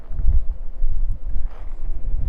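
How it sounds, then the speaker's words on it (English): Low, gusty wind buffeting the microphone in uneven rumbling bursts at Halemaumau crater within Kilauea, Hawaii, steady for a couple of seconds with no voices. "even though it's windy"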